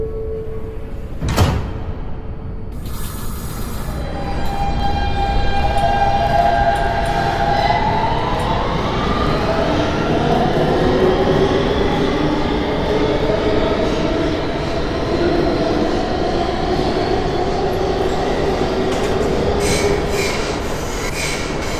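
A Kawasaki R160B subway train on the IND Crosstown Line in a Roblox game pulls out of a station, starting with a sharp clunk, then rising motor whine, wheel squeal and a steady loud rumble.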